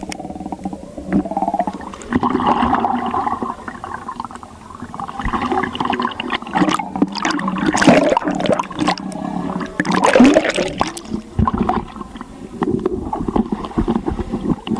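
Continuous churning and splashing of water as people swim out through a flooded cave in Java, loud and close, echoing in the enclosed space with no clear speech.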